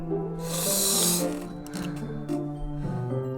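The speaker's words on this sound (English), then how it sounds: "It sounds like breathing." Heavy breathing in the video game Doki Doki Literature Club, a loud raspy snore-like inhale followed by slower wheezy breaths over a low droning game score, no talking.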